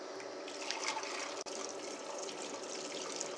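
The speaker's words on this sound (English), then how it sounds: "I'm just going to give it a rinse in warm water." Warm water runs from a tap over a platter being rinsed, a soft steady trickling and splashing at low level, alone and close with one brief break partway.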